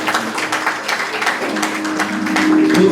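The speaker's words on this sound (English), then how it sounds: "Please let us applaud our seat." Audience at a university ceremony applauding, a dense patter of many hands with distinct claps standing out, a voice emerging faintly toward the end.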